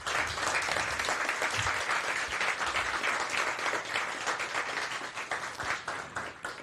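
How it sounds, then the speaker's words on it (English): A large audience at the Lumelaud 2025 demo event gives a massive round of applause. Dense, continuous clapping holds at a steady, loud level for the full stretch with no talk over it. "you can give like a massive, massive round of applause to yourselves for actually building it"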